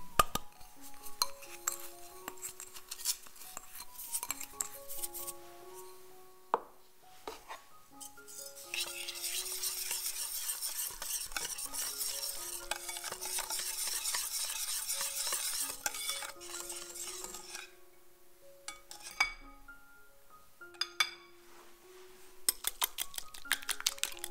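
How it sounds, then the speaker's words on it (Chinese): Chocolate cake batter being stirred with sugar in a mixing bowl: steady scraping and clinking of a utensil against the bowl, in repeated strokes that grow busier and brighter midway, close and alone. "加入糖搅匀"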